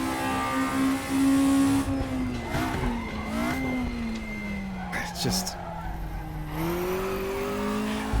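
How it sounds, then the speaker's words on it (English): Racing car engine in RaceRoom Racing Experience holding a steady drone with a thin racing-gearbox whine, shifting pitch through gear changes and throttle lifts, with brief tyre squeals and a voice talking over it. "You can tell that it's got a proper racing gearbox in it because there's a little bit of transmission whine."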